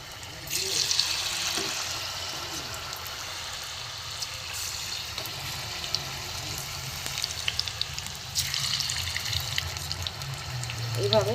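Pieces of ash gourd dipped in flour batter frying in hot oil, a continuous bubbling sizzle that swells as each piece drops in, close by, with a voice speaking briefly at moments.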